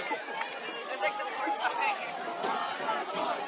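At a high school football game between Fort Morgan and Brush, a stadium crowd cheers and chatters in a lively, steady roar, with people talking over it.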